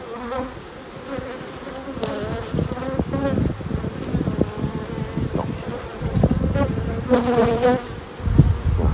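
Honeybees swarm over a brood frame pulled from a hive, a dense, continuous close-up buzz with fluctuating pitch and occasional louder surges as individual bees pass near.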